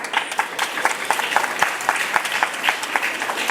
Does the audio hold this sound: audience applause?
yes